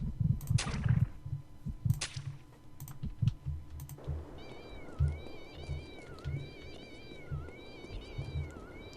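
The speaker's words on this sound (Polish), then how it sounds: "słyszę kota zbugowanego" Repeated cat meows from a video game (Postal 2) with an odd, glitchy quality over a steady background hum, interspersed with keyboard clicks and low thumps.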